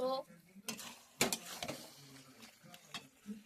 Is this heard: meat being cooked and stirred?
yes